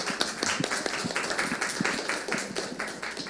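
Audience in an auditorium at a seminar gives a round of applause, a steady patter of many hands clapping at moderate distance for a few seconds without talk.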